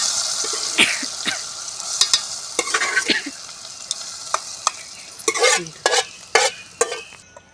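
Spices for a tempering sizzle in hot oil in a pan while a ladle scrapes and stirs in sharp, irregular strokes. The sound is close and loud, with no voices.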